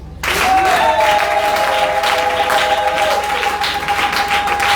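A church congregation applauds and cheers for Jesus, a steady wash of clapping with a sustained tone over it, loud and continuous throughout.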